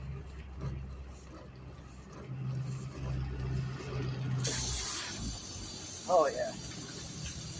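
Air hisses steadily from a punctured car tire being plugged, a bright continuous leak that grows stronger midway, with someone briefly speaking near the end.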